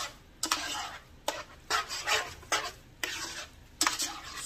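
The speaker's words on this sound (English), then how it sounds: "Stir that around." A utensil stirs garam masala chicken and coconut curry fettuccine in a pan, with repeated scraping strokes and light clanks against the metal in irregular bursts over a faint sizzle.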